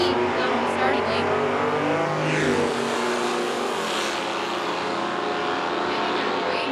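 Drag race cars, a 1955 Chevy in the left lane and a 1972 Vega in the right, run down a nostalgia drag strip at a fuel and gas finals event, their steady loud engine roar sustained throughout under an announcer's talk.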